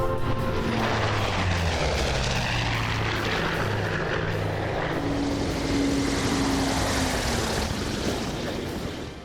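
A Grumman Bearcat piston-engined propeller fighter roars overhead in a close, loud, sustained pass, its engine drone swelling and shifting in pitch as it flies by, then fading slightly at the end.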